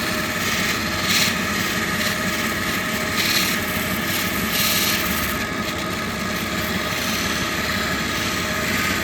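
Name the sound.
polishing a SE Missouri agate on a wheel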